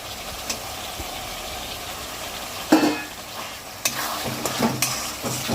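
Tomato is stirred into onion, ginger and garlic frying in a pan, giving a low sizzle broken by repeated spoon scrapes and clatters against the pan.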